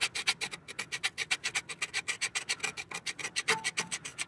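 Rapid rhythmic scraping of melted residue inside the intake of a junkyard 6.0 LY6 engine, a run of quick raspy strokes at close range and moderate volume.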